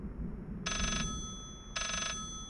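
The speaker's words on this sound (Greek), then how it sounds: "Πάλι χτυπήσει το τηλέφωνο." A telephone rings in the horror video game Layers of Fear, sounding as two separate, evenly spaced bursts of bright electronic ringing over a low background rumble, with no one talking.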